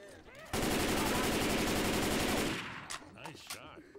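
Sustained rapid automatic gunfire in the zombie shooter Left 4 Dead 2, loud and continuous for about two seconds before cutting off, followed by scattered game sounds and a voice.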